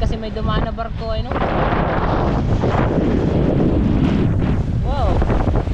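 Strong wind buffets the microphone over surging sea waves from a passing ship's wake rolling past a boat, with voices calling out briefly over the rush.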